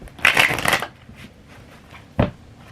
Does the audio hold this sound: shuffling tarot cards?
yes